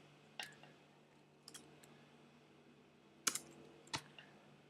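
Sparse keystrokes on a computer keyboard while writing C++ class code, a few isolated clicks and a short cluster of taps separated by quiet pauses, close and fairly soft with a low steady hum beneath.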